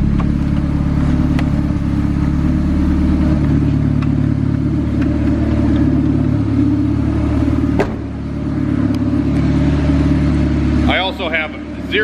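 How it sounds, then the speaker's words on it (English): A built turbo B16 engine in an EF Honda Civic hatchback idles with a steady low rumble that dips briefly, then settles again, ending with a short rise in engine noise. "RPM dipped a little low and then came back. So, but now it's idling good."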